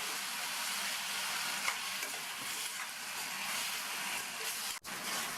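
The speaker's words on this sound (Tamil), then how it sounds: "தக்காளியை இந்த மாதிரி லேசாக வதக்கி விட்டுட்டு மூடி வச்சிடலாம்." Tomatoes frying in a pan with salt give off a steady, dense sizzle at moderate volume, with a faint stir or two and no other sounds.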